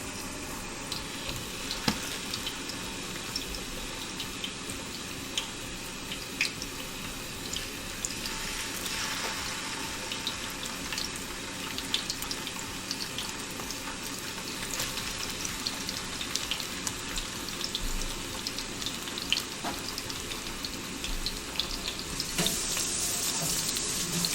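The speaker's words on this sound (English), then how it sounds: "Hear the sizzle." Food sizzles and crackles steadily in a hot pan, a continuous hissing fry with scattered pops, close and unbroken throughout.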